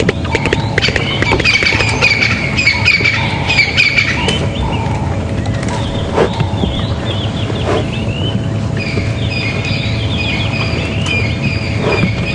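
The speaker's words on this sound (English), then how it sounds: "You might be able to hear that Steerling's wren warbler going." A Stierling's wren-warbler sings high, thin trilling phrases in the bush at Djuma Game Reserve on a morning safari drive, clearest early on, over a steady low vehicle rumble with other faint birds around.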